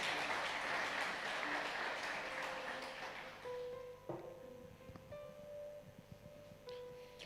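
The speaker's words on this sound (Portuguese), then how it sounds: "Se você pode dar um aplauso para o Senhor." A church congregation applauds loudly at first, then the clapping thins out and fades, leaving sparse claps and a sustained instrumental tone underneath.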